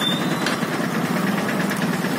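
A motorbike engine idles nearby with a steady, low, rough knocking throb, alone and without speech.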